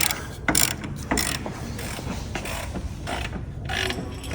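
Ratchet wrench loosening 13mm nuts on a 2021 BMW 540i strut during a lowering spring install, a loud, close, continuous rapid clicking of the pawl that runs steadily throughout.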